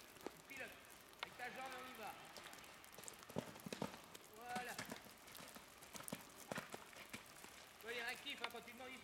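Horse hooves clip-clop in a steady rhythm during a riding lesson, close and fairly loud, mixed with scattered rain-like patter while an instructor talks over them.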